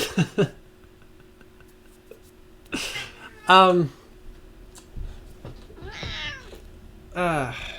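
A house cat meows several times, close and clear, a few short calls and longer drawn-out meows spread across the stretch with quiet gaps between them.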